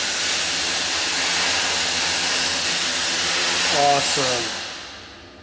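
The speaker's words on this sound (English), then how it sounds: "Sorry for the needle gun noise in the background." A needle gun runs steadily in the background of a fabrication shop, a loud continuous broadband hiss and rattle that holds throughout and fades near the end, with a brief spoken word over it.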